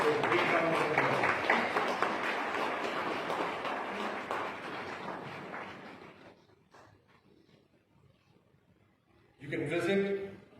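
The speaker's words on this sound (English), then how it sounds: "please give a big round of applause" An audience at a national meet on the Right to Information Act in Leh claps in a dense burst of applause that fades out over several seconds, leaving near silence before a voice resumes.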